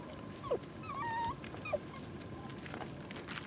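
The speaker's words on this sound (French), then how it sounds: "Ça suffit de nous réveiller, les petits chiens là." Small dogs whimper and give a few high yips, fairly close, over a noisy outdoor background with brief whining bursts early on.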